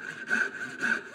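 A hand saw cuts wood for a dovetail joint, two close rhythmic rasping strokes, each rising and fading in a steady back-and-forth.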